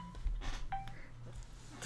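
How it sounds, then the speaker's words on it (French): A phone alarm in a farming video game gives a short electronic beep, brief and clear over a low background hum. "Petite alarme du téléphone"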